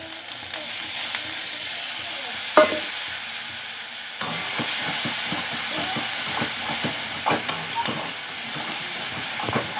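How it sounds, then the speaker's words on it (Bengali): Masala for a whole-onion curry sizzles and simmers in a pan, a steady close hiss broken by repeated stirring scrapes and a few sharper knocks, with no talk over it. "এইভাবে আমি মশলাটাকে ভালো করে ফুটিয়ে নিচ্ছি। অনেকটাই মশলা থেকে তেল ছেড়ে আসছে"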